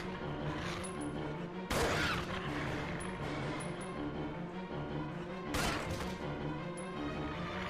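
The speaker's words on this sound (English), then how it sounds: "I've already wasted like 5 bullets." Two loud gunshots ring out in Resident Evil Zero, spaced several seconds apart over a low rumbling game ambience with faint high chirps, no voices present.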